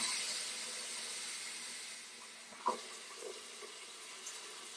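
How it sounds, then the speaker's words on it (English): Hot water runs steadily down a freshly unclogged sink drain, a continuous broad hiss and wash of flowing water close by, with a few faint clinks and gurgles near the end. "We're running some hot water that'll help wash everything through."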